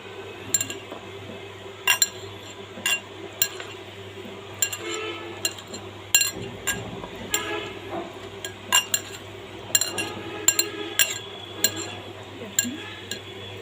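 Garlic and onion rubbed and mashed by hand in a metal bowl, a steady soft squelching broken by frequent sharp clinks of metal and dishware, close and fairly quiet with no talking.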